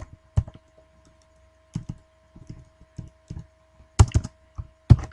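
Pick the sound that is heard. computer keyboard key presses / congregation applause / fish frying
computer keyboard key presses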